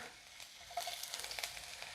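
Sliced ginger strips sizzling and frying in hot oil in a kadai, a steady hiss that swells with sharper crackling pops partway through, close and with no voices.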